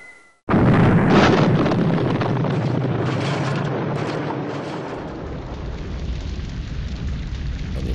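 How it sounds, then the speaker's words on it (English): An airfield blown up in the B-17 Flying Fortress Leader game: a sudden loud explosive boom bursts in, then rolls on as a long rumbling roar that slowly fades. "And the airfield is finally destroyed."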